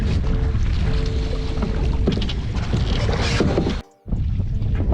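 A canoe is paddled on water in Maine, with splashing, sloshing water and wind rushing across the microphone close by, then a brief near-silent break before the watery noise resumes.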